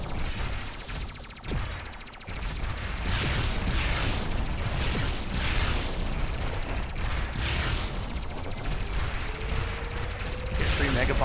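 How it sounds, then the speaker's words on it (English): Enemy gunfire in the vertical shoot-'em-up Sky Force Reloaded, a dense ongoing barrage of rapid shots and booms running through the whole stretch, mixed with game effects and a brief dip in the middle. "There's an enemy firing from off screen"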